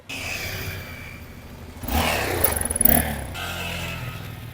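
Motorcycles driving past outdoors, engines rising from a low rumble to a loud revving pass near the middle, then fading back to a quieter background, with no speech.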